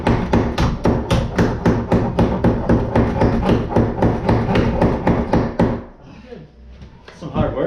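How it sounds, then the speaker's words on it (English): A reciprocating saw (Sawzall) cuts out a wooden wall stud during a kitchen remodel, producing a loud, rapid, rhythmic chatter of blade strokes for about six seconds. It then stops abruptly, leaving quieter room noise and brief talk. "you ready to sawzall this stud out?"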